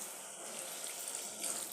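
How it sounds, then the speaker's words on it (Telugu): A glass of water poured into a pan of drumstick and tomato curry, a brief close hiss and splash of liquid lasting under two seconds, heard alone. "ఇప్పుడు 1 గ్లాస్ వాటర్ పోసుకుందామండి."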